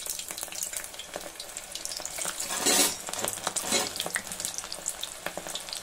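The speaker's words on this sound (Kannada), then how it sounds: "ಈಗ ಎಣ್ಣೆ ಕಾಯ್ದಿದೆ, ಗೋಬಿನ ಕರಿಯಕ್ಕೆ ಹಾಕ್ಬಿಡೋಣ ಒಂದೊಂದೇ." Pieces of masala-coated cauliflower for gobi 65 fry in hot oil with a steady, close, crackling sizzle that swells briefly as more pieces go in, with no talking.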